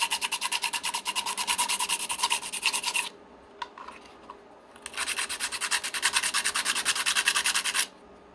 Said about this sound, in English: So you can just sand in that little part there.